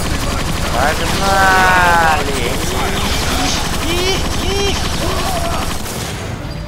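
The Perforator gun in Transformers: Fall of Cybertron fires a loud, sustained barrage of rapid mechanical shots with whining energy tones. Someone talks over the gunfire.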